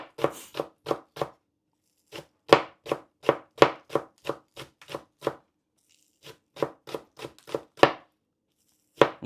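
A knife chops green onions for a yakisoba garnish on a board, crisp close strokes falling in quick, even runs with short pauses between bursts, no voices.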